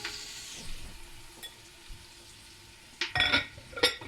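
Onions and peppers fry in a pan with a steady sizzle, and sharper bursts of crackle and stirring come toward the end. No one speaks.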